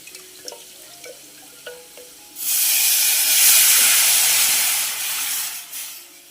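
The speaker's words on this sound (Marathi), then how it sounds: "आता हे जरा मिक्स करून घ्यायचं आणि पटकन आता फोडणी करून घ्यायची" Spices with red chilli masala and turmeric hitting hot oil for a tadka while cooking khichdi and kadhi, starting quietly with faint clinks, then bursting into a loud, sustained hissing sizzle that slowly eases off.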